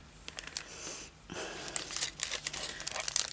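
Scissors cut through paper while making junk journal tags, giving a close run of crisp snips and crinkling rustles, with a short pause partway through.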